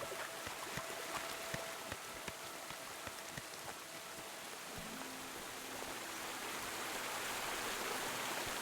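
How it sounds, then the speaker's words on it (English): Rain and a waterfall in the video game Kingdom Come Deliverance 2, a steady wash of rushing water with scattered pattering drops and a faint low tone entering partway through. "I discovered the touch of waterfall. Just a touch of rain."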